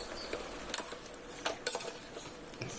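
Chicken coated in masala is stirred in a pot for Chettinad chicken kulambu, giving soft, scattered scrapes and light metallic clinks at a low level, with no talking.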